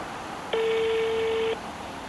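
A phone call heard over speakerphone: a single steady electronic ringback tone lasting about a second, moderately loud against a faint room hiss.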